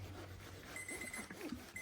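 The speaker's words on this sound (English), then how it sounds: "Right, you can hear the timers going." Kitchen timers beep with a steady electronic tone during an ironing session at home, moderately loud and repeating over quiet room noise, with no talk.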